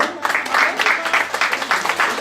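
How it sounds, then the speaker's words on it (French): A restaurant audience applauds young Thomas at a Paris 13 grilled-beef restaurant event, the clapping dense and fairly loud and continuous for a couple of seconds, with voices mixed in. "on peut applaudir Thomas"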